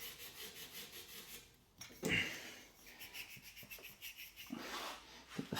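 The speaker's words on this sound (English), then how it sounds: "Get some cleaning strips. Clean these bits of pipe up." Short lengths of copper pipe being scrubbed with abrasive cleaning strips during a kitchen plumbing install, soft rasping rubs close by, with a brief louder scuff midway and another burst of rubbing at the end.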